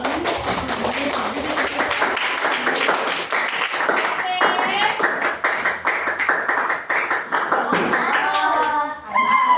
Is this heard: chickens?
no